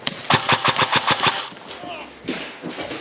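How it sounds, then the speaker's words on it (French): Rapid bursts of airsoft gunfire, likely an AKS74 replica, rattle out in a quick rhythmic string during a guerrilla-themed roleplay game, then stop, followed by scattered movement and faint voices. "Ça tire de en bas."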